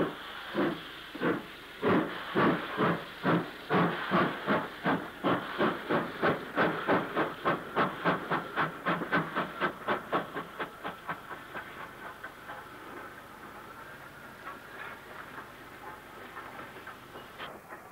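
Steam locomotive 92203, a 9F, backs out light from a platform on the Wirral, heavy rhythmic exhaust chuffs quickening and slowly fading as it draws away, leaving a soft hiss and faint rail clatter.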